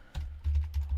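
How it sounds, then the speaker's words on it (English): Several soft key presses on a computer keyboard as a command is typed, close and quiet, in a brief cluster of taps. "So I'm going to type in nano"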